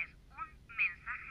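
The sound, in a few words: telephone beep activating voice messages in video game F.E.A.R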